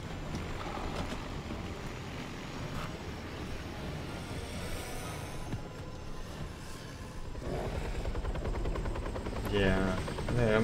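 Helicopter in the Batman: Arkham Origins video game, a steady rotor and engine roar running throughout at fairly constant loudness, mixed with other game sounds and swelling slightly near the end.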